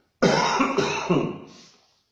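A single loud, harsh cough burst in two or three quick hacks, close to the microphone, trailing off into a breathy exhale.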